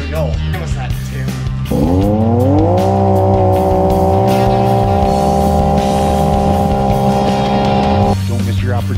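Can-Am Renegade 1000 XMR ATVs race across a swamp, engines roaring loud and close and rising sharply in pitch as they rev, then holding a sustained high whine before easing off.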